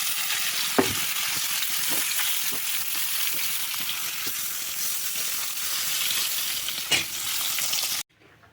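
Live snakehead fish curry cooking in a pan, a dense continuous sizzle with occasional stirring knocks, which cuts off abruptly at the end.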